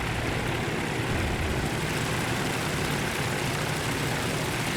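Japanese propeller planes in a Coral Sea naval battle game drone continuously as a dense, loud engine roar with a deep rumbling low end, unbroken and without talk.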